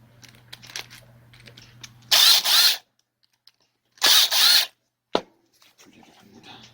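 A power tool removes bolts from a fertilizer spreader blower in two loud, close bursts of whirring, each about half a second long, followed by a sharp metallic click against a quiet background.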